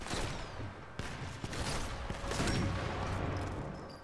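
Gunfire rattles through a battle in the video game Sniper Elite 4, with scattered sharp shots and bursts over a dense, continuous din of combat noise.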